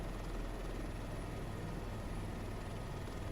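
Helicopter flying overhead, a steady, dense rotor and engine rumble that holds at one level throughout, moderately close and alone.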